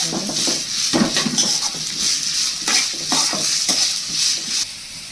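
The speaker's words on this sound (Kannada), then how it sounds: "ಈರುಳ್ಳಿ ಕೂಡ ಫ್ರೈ ಮಾಡ್ಕೊತಾ ಇದ್ದೀನಿ" Onions frying in a pan for palak rice, a steady loud sizzle broken by repeated scraping stirs of a spoon against the pan, close up with no talking.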